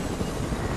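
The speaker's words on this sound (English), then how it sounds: "Helicopter coming." A video game helicopter approaching, heard as a steady broadband rotor and engine roar that fills the whole short moment at constant loudness, with no voices over it.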